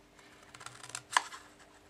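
Scissors snip through a scrap of cardstock while crafting a scrapbook page: soft rustling, then one sharp, close cut near the middle, with no talking.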